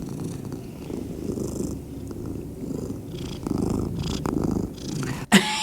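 Jericho the cat purrs steadily and close by, a low continuous rumbling purr with slight swells, followed by a brief sharp knock near the end, no talking.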